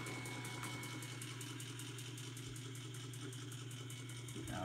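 Electric Millionaire mechanical calculator running on its electric motor with a drive belt, giving a steady continuous mechanical hum and whir with a faint rapid rhythmic ticking, fairly quiet and unchanging throughout.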